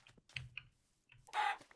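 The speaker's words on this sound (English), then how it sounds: "There's chickens over here." Minecraft chickens cluck in a few short, clipped bursts with pauses between them, fairly close and clear, with no talking over them.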